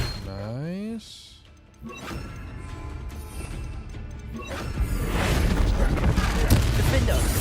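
Bombarda and Confringo spell blasts in the Hogwarts Legacy video game, crashing booms and smashing impacts building in intensity, with a voice briefly speaking early on.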